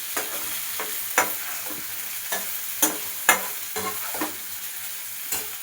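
Meal maker soy chunks fry in a pan while a spatula stirs them, a steady sizzle under sharp, irregular scraping clicks, close and moderately loud with no talk.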